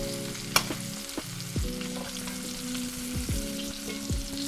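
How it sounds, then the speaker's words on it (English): Garlic herb lamb chops sear in a hot pan with a steady close sizzle, a few sharp taps and scrapes, and a faint tonal hum underneath; no voices. "Give it a nice sear on the sides."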